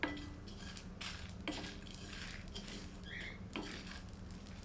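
Whole red chillies and poppy seeds dry roast in a pan over a low flame. They rattle and patter lightly, with faint scraping clinks of a spoon against the metal and a soft, steady background.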